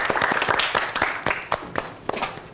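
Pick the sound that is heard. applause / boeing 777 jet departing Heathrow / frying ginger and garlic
applause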